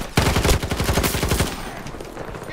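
A Factory GEW rifle in Battlefield 2042 fires a rapid, loud, close burst of about a dozen shots over a second and a half, then fades into faint background noise.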